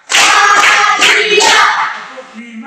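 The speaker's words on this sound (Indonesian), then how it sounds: "Untuk itu kita beri 5 kali tepukan untuk kita punya semangat pagi ini." A classroom group claps together in unison for a morning energizer during a teaching practice session, a few loud, synchronized bursts of clapping close by, with voices calling along.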